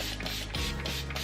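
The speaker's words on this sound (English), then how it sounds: "So I simply spray the cleaner on it." A spray bottle of homemade three-ingredient household cleaner is pumped onto a stovetop surface, giving a quick mechanical trigger click and hiss, close and fairly quiet, with no talking.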